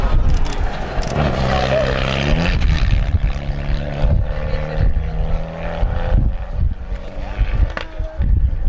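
A Mitsubishi Lancer Evo 8 rally car with engine problems, running at a rally stage corner, sounds close and loud, its uneven engine note rising and falling with sharp pops and stutters.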